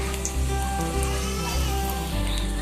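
Banana flower vada frying in hot oil over a medium flame, a steady close crackling sizzle over a low hum, with a few soft clicks along the way.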